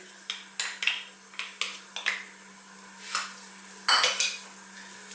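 A utensil clatters and scrapes against a pan in a quick run of sharp knocks as onion and garlic are added to hot oil and stirred for a Jamaican chicken curry, close and fairly loud, with no talking.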